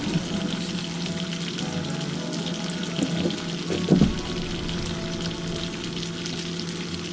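Steak frying in a pan on a home stove, a steady broadband sizzle running throughout with a brief louder flare and clatter near the middle, no talking.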